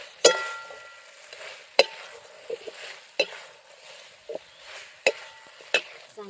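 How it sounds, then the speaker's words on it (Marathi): Fried cauliflower gobi manchurian pieces being tossed into sauce in a pan: a series of sharp spatula scrapes and clacks at uneven intervals, with only a soft sizzle between strokes and no voices. "तर आपण सगळं तळून घेतलेलं मंचुरियन मध्ये घालूया आणि मिक्स करून घेऊ."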